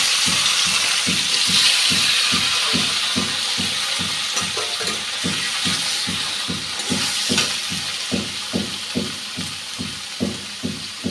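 Taro pieces dropped into hot oil with green chili and black cumin, sizzling loudly and steadily close by, with a regular pulsing beat of stirring or bubbling that slowly fades.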